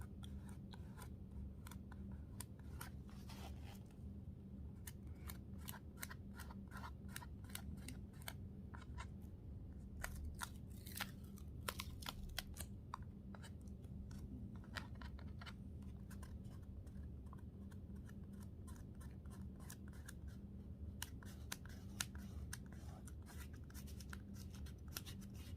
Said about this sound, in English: masking fluid comes off. Oh, it's a bit of a satisfying peel.